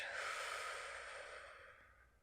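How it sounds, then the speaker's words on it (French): A person lets out a slow, soft breath through the mouth, a single close airy exhale that fades gradually, with nothing else heard. "Et nous soufflons par la bouche."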